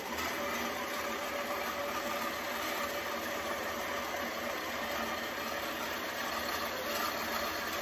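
A longarm quilting machine stitching at 14 stitches per inch, running as a continuous, even motor hum with no pauses or voices.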